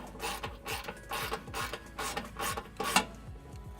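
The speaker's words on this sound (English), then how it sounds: "Using my 10mm, I'm going to tighten them all back down." A 10mm wrench tightens screws under a 2017 Subaru Forester during a trailer hitch install, giving close, repeated rasping ratchet clicks in steady bursts with some metallic rubbing and no talking.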